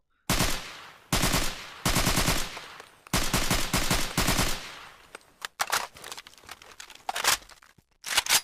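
Rapid bursts of suppressed AK-74M automatic rifle fire in modded Fallout 4, several sustained strings with short pauses, followed by scattered single shots and clicks, close and loud.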